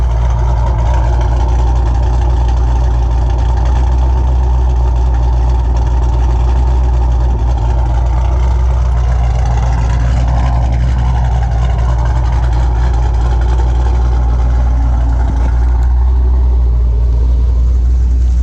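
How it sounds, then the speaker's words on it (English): A Scat Pack widebody car with an automatic transmission and an MDS delete runs on a dyno; a loud, steady low engine drone fills the whole stretch with a constant heavy rumble and no talking. "now you're going to be seeing the car go on the dyno soon for some power numbers"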